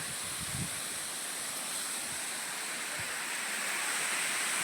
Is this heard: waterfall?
yes